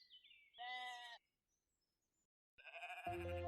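Synthesized sheep bleats from a Pokemon video game: one wavering, chirpy bleat near the start, a pause of near silence, then another bleat as cheerful game music begins, all fairly clear and close.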